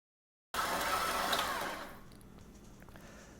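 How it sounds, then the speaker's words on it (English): A stand mixer mixing corn tortilla dough at medium speed starts abruptly with a loud, steady motor whir, then drops to a quieter hum after about a second. The recording is sped up and has no talking. "I mixed it for about a minute at a medium speed"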